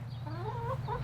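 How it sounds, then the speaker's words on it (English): Hens in a chicken coop on a 12-acre New York homestead cluck in short, rising murmurs over a steady low hum, close by and moderately loud, with no talking. "moving over to the chicken coops. Let's take a look at what are going on with the chickens."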